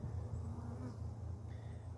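Honey bees drone steadily around an opened hive during an inspection, a continuous low buzzing hum with no breaks, close and fairly loud throughout.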